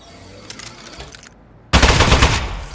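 An Aperture Science Turret from the Aperture Desk Job video game opens fire: after a quiet, low hum, a sudden loud, dense burst of rapid automatic gunfire erupts close up and keeps rattling to the end.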